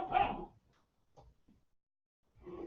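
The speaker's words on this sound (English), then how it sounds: "Sorry if you hear my dogs and stuff in the background." A dog barks once loudly at the start, followed by a few faint ticks and small sounds, then another bark or whine near the end, with quiet gaps in between.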